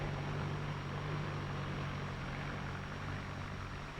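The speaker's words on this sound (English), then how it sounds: "You can actually hear this difference as the new Ford tractor passes by." A steady, low engine drone from a Ford Jubilee farm tractor passing by holds constant throughout, a deep rumbling motor heard fairly close with no voices.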